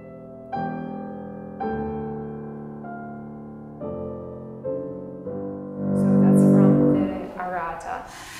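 Solo piano playing the Arietta theme of Beethoven's Sonata Op. 111, slow full chords struck one by one and left to ring, with a louder swelling passage near the end.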